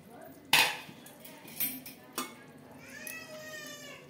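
The lid of a cooled pressure cooker holding mutton curry is opened with a few loud metallic clanks and knocks, followed by a cat meowing several times nearby.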